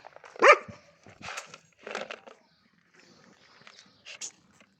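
Dogs bark at a newly arrived dog in a few short, sharp bursts close by, followed by softer scuffling and a final yelp.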